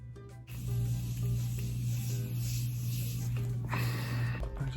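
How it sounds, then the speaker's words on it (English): A continuous setting spray mists onto a face during an everyday skin routine, a steady close hiss that starts abruptly and holds without a break for several seconds. "I like the continuous spray on it."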